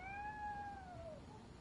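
A cat in the video game RoboCop: Rogue City gives a single drawn-out meow that slowly falls in pitch, fairly faint over a steady background hiss.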